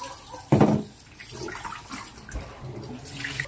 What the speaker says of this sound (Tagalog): Linisan natin hanggang luminaw ang kanyang tubig